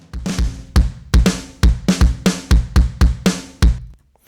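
Pop punk drums from kick, snare and room mics run through a heavy distortion channel, a gritty, crunchy beat of evenly spaced punchy hits with hissy tails, played alone and loud.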